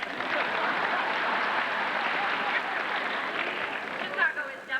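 An audience at a 1991 event in Wichita, Kansas applauding, a steady wash of clapping with a voice speaking over it near the end.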